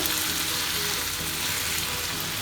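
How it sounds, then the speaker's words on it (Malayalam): Pork roast with ginger, garlic and onion frying and being stirred in a pan, giving a loud, steady, continuous sizzle with faint stirring scrapes underneath. "എല്ലാം ഒന്ന് വഴണ്ടി വരുന്നവരൊന്ന് ഇളക്കി യോജിപ്പിക്കാം"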